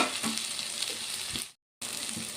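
Onions and chopped tomatoes sizzle and fry steadily in a pan, a loud, close, continuous crackle that cuts out briefly before resuming.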